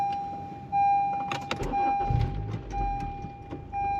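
A 9th-generation Honda Civic Si fires up from a push-button start: a sharp crank burst, then a low engine rumble that settles to a steady idle, with a continuous electronic tone running throughout and no talking.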